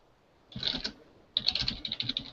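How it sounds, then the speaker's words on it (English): Rapid typing on a computer keyboard, two bursts of quick clicky keystrokes separated by a short pause, fairly close and quiet. "And he's typing again."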